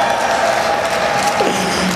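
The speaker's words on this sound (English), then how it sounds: "give a cheer for Squirtle" A gaming tournament audience cheers for a competitor during a three-way tiebreak, a steady wash of crowd noise with applause and whoops, loud and sustained, with a faint announcer-like tone under it.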